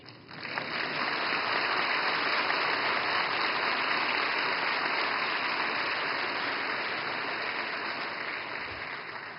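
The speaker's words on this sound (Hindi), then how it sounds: "और मुझे खुशी है कि सबसे ज्यादा तालियां इस बात पर पड़ी।" Dense, steady applause from a large audience at an opening ceremony in Mumbai roars without a break for over nine seconds, loud and evenly spread, easing only slightly toward the end.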